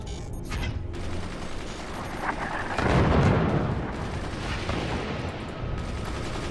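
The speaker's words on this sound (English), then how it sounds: "I think I have plenty of incendiary mortars to take out the enemy." Incendiary mortars boom and crackle in the game Forts, with scattered gunfire-like bursts building to a heavy rumbling blast midway that fades into ongoing battle noise.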